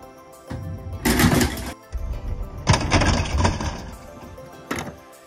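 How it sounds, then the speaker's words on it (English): A LEGO bowling pinsetter machine running after a bowl, giving off bursts of plastic clattering and mechanical whirring in two main spells, with a quieter click near the end. "After you bowl, the machine waits a second or two and then drops the pin sweep and flashes red to tell you not to bowl again."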